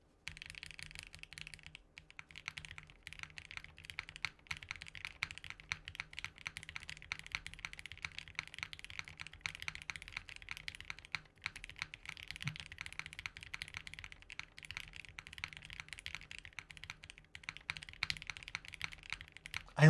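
Steady rapid typing on a Haven65 mechanical keyboard, a dense run of crisp key clacks close up with occasional heavier strikes.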